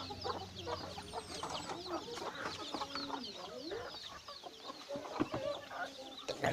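Chickens and ducks on a countryside farm cluck, quack and chatter together in a busy, layered mix of calls at moderate distance, with a few knocks and scuffs near the end.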